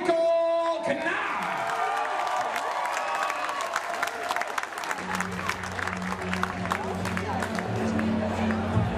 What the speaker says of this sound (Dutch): Uw applaus voor Michael Knaap!